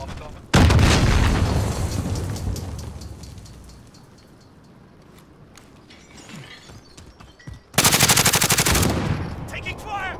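Automatic gunfire in the Warzone Trios battle royale video game: a loud, close burst of rapid shots fades into distant pops, then a second sharp volley erupts near the end.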